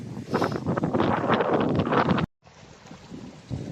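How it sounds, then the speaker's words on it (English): Strong breeze on an open hilltop overlooking marshland buffets a phone microphone, a loud continuous rumbling roar with gusty surges that cuts out abruptly to near silence, then returns as a softer, steadier wind. "So it's quite breezy sitting up here, but it's nice breeze."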